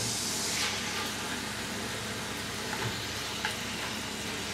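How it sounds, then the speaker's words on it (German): Steady sizzling and crackling of Black Angus beef and minced meat searing in a hot pot, with a few soft clinks and stirring sounds. "Und das tun wir jetzt gemeinsam ordentlich anbraten."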